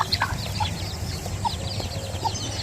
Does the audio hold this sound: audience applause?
no